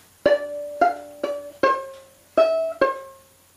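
Violin playing a short fragment of the Irish tune Drowsy Maggie, six distinct bowed notes in a bouncy uneven rhythm, close and clear, played alone.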